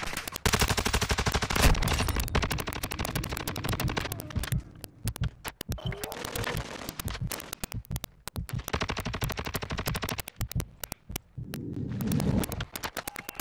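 Rapid automatic gunfire from the video game Call of Duty Warzone 2.0 in DMZ mode, loud bursts of shots rattling almost continuously through the clip, with short pauses between volleys.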